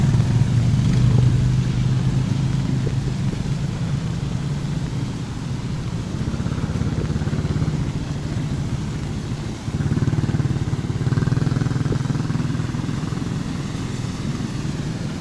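A vehicle idles and moves on a low flooded bridge in rainy, windy weather, a steady low engine drone with slight rises in pitch that continues throughout, fairly close.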